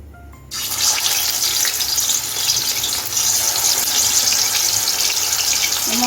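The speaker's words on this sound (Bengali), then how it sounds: "এখন আমি আলু ভাজার তেলে মাংসটা ভেজে নিব" Meat going into hot oil left over from frying potatoes, a loud hissing sizzle bursting in after a quiet half-second and holding strong and steady to the end.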